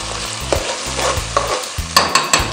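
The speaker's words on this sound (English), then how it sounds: "When you fry the tomato puree, you allow some time." Tomato puree frying in a pot for party jollof rice: a steady close sizzle broken by repeated scrapes and clacks of a spoon stirring, with no talk.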